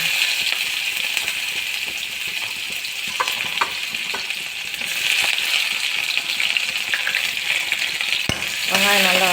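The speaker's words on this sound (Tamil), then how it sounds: "கடுகு பொரிஞ்சதும் வெங்காயம் சேர்த்துக்கோங்க." Mustard seeds and onions fry in hot oil with a continuous close sizzle, scattered popping crackles and light spoon scrapes, ending in a brief clatter; no voices.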